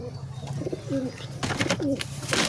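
Pigeons coo in low rounded bursts, two or three calls close by, over a background of chirps and rustling from chicks in a loft.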